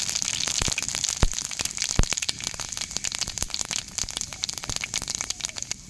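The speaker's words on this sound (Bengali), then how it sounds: "তেলটা গরম হয়ে গেছে তেলের মধ্যে ফোড়ন দিয়ে দেব" Panch phoron, a five-spice tempering, frying in hot oil in a pan, a dense, rain-like sizzle with sharp pops and crackles scattered throughout at close range.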